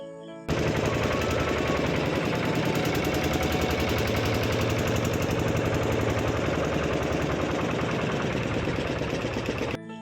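A river ferry boat's engine runs at idle in a steady, loud, rapid mechanical chug while passengers board, continuous throughout with no voices.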